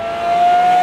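A final-year 2010 Lamborghini Murcielago engine drones loudly and close, a sustained tone rising slightly in strength over under a second with no talking.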